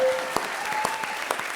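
A comedy show studio audience breaks into applause, a short burst of mixed claps with a few louder individual strikes near the front.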